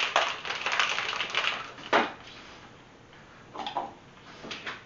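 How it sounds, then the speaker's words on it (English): A cocktail shaker holding ice, vodka, light white rum and the other Blue Hawaii ingredients is shaken in short, rattling bursts. The clatter comes up close in several uneven spurts with brief pauses between them. "All right, we're gonna give that a shake."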